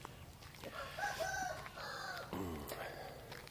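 A rooster crows near a chicken coop on a morning walk in Khon Buri, Thailand; one drawn-out crow rises over steady outdoor background noise, with fainter clucks and farmyard sounds around it.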